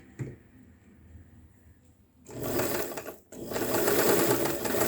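A sewing machine stitches a fall onto a saree: quiet handling and light ticks come first, then the motor runs in a loud, fast, steady whir, pauses briefly, and starts up again close by.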